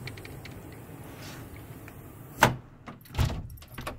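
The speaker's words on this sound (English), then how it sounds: "Just trying to open the door and I'm catching the snow" A car door is pushed open against a foot or more of deep blizzard snow: a sharp latch click, then scraping and thumping bursts as the door catches on the snow, close and without speech.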